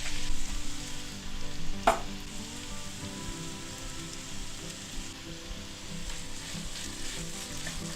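Mirepoix and garlic sizzle in hot olive oil in a pan, a steady close crackle and hiss, with one sharp clink partway through.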